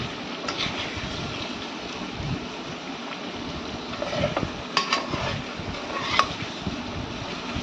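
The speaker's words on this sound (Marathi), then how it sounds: "शेंगदाणे टाकल्यानंतर आणखी परतून घ्यायचं आहे" Peanuts sauté in a pan for moong dal khichdi, giving a steady low sizzle with occasional light clinks and scrapes of a spoon against the pan, close and fairly quiet, without speech.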